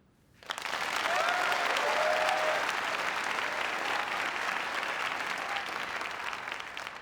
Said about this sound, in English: I don't know if you're applauding